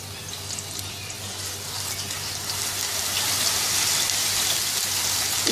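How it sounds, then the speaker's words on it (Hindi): Grated raw onion frying in four tablespoons of oil in a pan over medium heat, a steady, dense sizzle that grows slightly louder as it goes on, close up with no voices. "इसमें सबसे पहले शामिल करेंगे 4 खाने के चम्मच तेल के, कच्ची पिसी हुई प्याज 1 बड़े साइज की"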